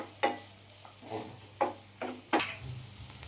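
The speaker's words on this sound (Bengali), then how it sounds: "এবার আমি কাজুটা দিয়ে দিলাম আর কাঁচা লঙ্কাটাও দিয়ে দিলাম, দিয়ে আবারও আর একটুখানি ভালো করে ভেজে নেব" Onion with cashews and green chilli frying in a pan, a faint sizzle under four or five distinct scraping stirs of a spoon spaced about half a second to a second apart.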